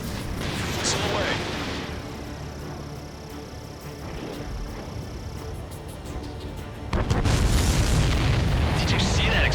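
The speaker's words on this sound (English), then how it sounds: "Did you see that explosion?" A deep, rumbling video game explosion in Ace Combat 7 bursts loudly near the end, following a stretch of lower mechanical noise and faint effects.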